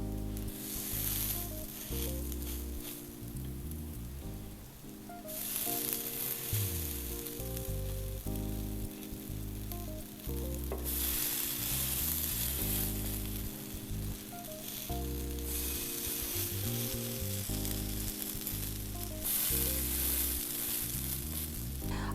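Hot water cornbread patties frying on a griddle give a loud, continuous sizzle and crackle that stays close and steady throughout, with faint tonal music beneath and no speech.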